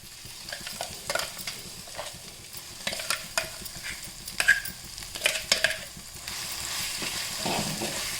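Coriander paste stirred into a hot tempering of oil and asafoetida, a continuous sizzle broken by repeated scraping and stirring strokes, close and fairly loud, with no talking.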